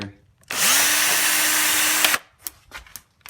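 A cordless power drill spins up to remove a bolt from the air box of a Honda CBR650F motorcycle. It gives one loud, steady, close whir of about a second and a half, then stops, followed by faint clicks and handling sounds.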